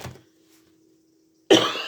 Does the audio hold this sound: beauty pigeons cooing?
no